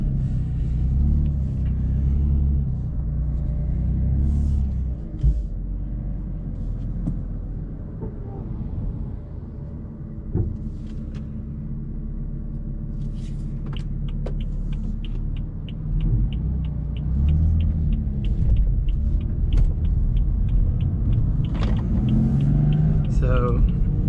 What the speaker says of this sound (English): So there, I give it to gas. And now it finally starts to move.